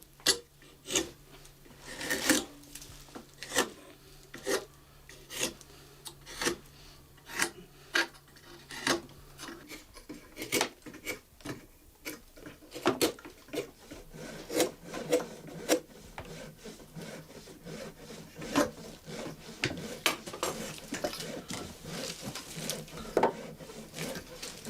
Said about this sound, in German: Erst dabei kürzt er die Zähne auf die einheitliche Länge und spitzt sie gleichzeitig.